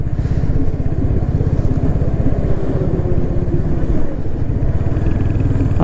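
A Royal Enfield Hunter 350 single-cylinder 350cc motorcycle rides along, its engine thumping in a rapid, steady pulse with a loud, close exhaust drone throughout.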